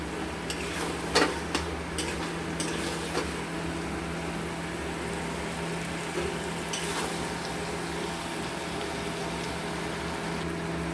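Chicken with capsicum being sautéed on high flame, a constant low sizzle with a few sharp spoon knocks and scrapes early on, then mostly steady frying.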